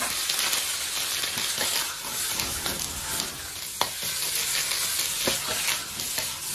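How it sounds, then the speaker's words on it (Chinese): Onion, wood ear mushroom and egg sizzle in a small amount of oil in a pan, a steady loud frying hiss with occasional sharp pops and stirring scrapes, no talking. "少量的油，煮过料下锅"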